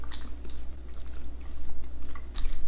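Soft, chewy Thai milk candy being chewed up close, with a few moist squishy bites and smacking sounds spaced irregularly over a steady low hum.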